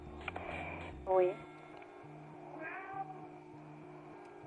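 A cat meows once loudly and clearly, followed by a softer second meow, heard over a phone-line radio broadcast with quiet background music.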